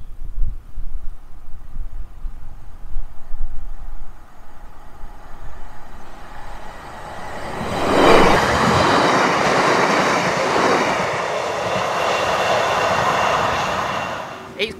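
Class 156 diesel train approaching on a coastal railway line: a distant rumble swells into loud rail and wheel noise around midway, then continues as a steady roar of passing carriages.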